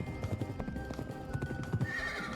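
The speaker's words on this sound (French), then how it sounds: "Une course de cheval." A horse in the video game Pumpkin Jack gallops with rhythmic clip-clop hoofbeats and lets out a whinnying neigh. The sound is close and fairly soft, with faint game sounds behind it.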